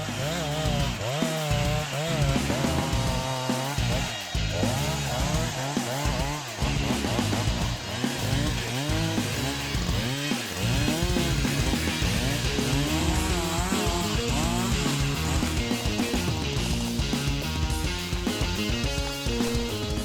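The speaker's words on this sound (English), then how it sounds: "The Echo 390SX saw is not only a powerful tool, but also a versatile product with impressive torque." An Echo 390SX chainsaw roars loudly and steadily for the whole stretch while cutting a tree, its pitch wavering as it bites and cuts, with no voices over it.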